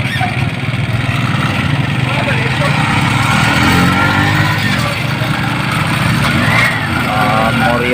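A motorcycle ridden through city streets around Moriones and Morga, its engine noisy, gives a steady, loud drone mixed with wind rush for the whole stretch, with a voice faintly present at times.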